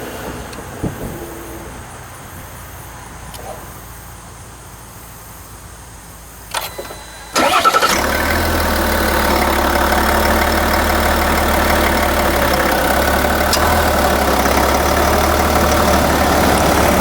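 A 2020 Chevrolet Silverado 1500 with the Duramax diesel engine is started after a quiet stretch, catching with a brief surge and then settling into a steady, fairly quiet idle that continues to the end.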